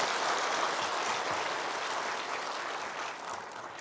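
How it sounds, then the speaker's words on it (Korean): A church congregation applauding during a sermon at Bethany Church, a thick wash of many hands clapping, strong at first and gradually thinning toward the end, no voices over it. "우리 박수 한번 해, 한번 해봐요."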